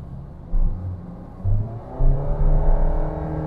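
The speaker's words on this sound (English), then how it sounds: "I'm going to be hard on throttle." A Honda Jazz petrol car with a CVT pulls away at hard throttle, its engine droning and rising in pitch in a few surges, heard close from inside the cabin.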